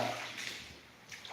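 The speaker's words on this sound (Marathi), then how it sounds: "पाणीच पाणी येत आहे पाणी आणण्याची गरज सुद्धा नाही डायरेक्ट या ठिकाणी पाणी येत आहे" Water flows in steadily, a faint, soft trickle and slosh with no voices over it.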